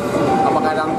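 A KRL commuter train, number TM 6018, rolls through a level crossing where a Toyota Fortuner is stuck on the rails, a close, loud steady rumble of wheels and cars under someone talking.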